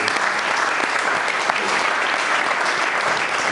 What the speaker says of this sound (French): Est-ce qu'on va acclamer pour notre papa, s'il vous plaît?